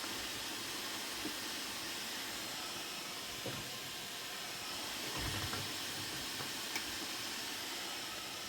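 A continuous, even hiss of steam escaping from a steamer cooking vegetables, with faint occasional clicks and rattles, no voices.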